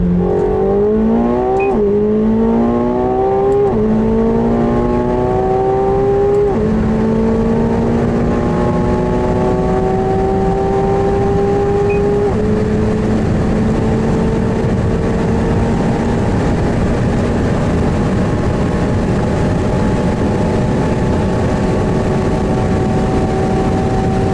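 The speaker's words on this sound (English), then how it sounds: "here's the acceleration to top speed" A McLaren 720S accelerates hard to top speed, its engine loud and close with rising pitch sweeps broken by gear changes, settling into a sustained high drone with heavy road and wind roar.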